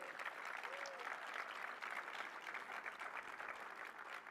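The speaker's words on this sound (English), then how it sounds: "Let's give a big round of applause for all of our port workers here" A crowd applauds port workers at a presidential remarks event on investing in America, with sustained, even clapping that sounds fairly distant and fills the whole stretch.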